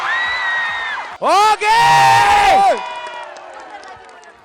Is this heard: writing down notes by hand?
no